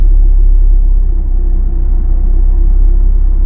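A Nissan 370Z engine idling after a throttle body spacer install, a steady low rumble with a smooth, even hum that holds constant throughout.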